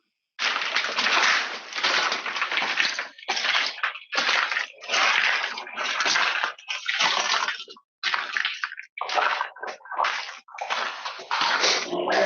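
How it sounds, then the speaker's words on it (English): Brittle tiles crackle and crunch underfoot in a gutted, vandalized and burned building, a close, uneven run of crushing bursts with short gaps between steps. "what you're hearing is the tiles crackling under my feet"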